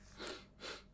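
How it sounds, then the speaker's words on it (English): A sick person blows their nose in two quick, close bursts of breathy, snorting air, nearby and fairly quiet, with no talking. "Let me blow my nose real fast."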